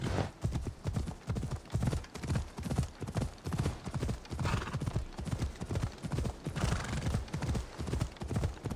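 Horse galloping in Assassin's Creed Odyssey, a steady rapid drumming of hooves close by, sustained throughout with a brief whinny-like rise partway through.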